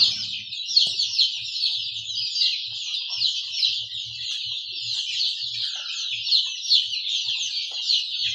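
A flock of Andijan black chicks chirps and clucks constantly in a dense, high-pitched chorus, steady and fairly close, with faint low knocks underneath.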